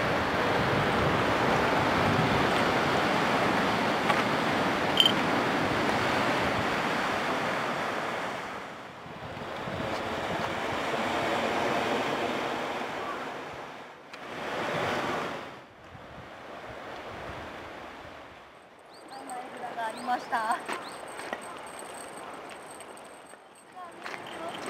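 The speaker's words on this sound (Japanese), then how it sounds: "波がすぐそこでザバーンといい音を立てています" Ocean waves crash onto the shore close by on the Shikoku coast, several loud surging roars that swell and fade one after another, with wind buffeting the microphone between them.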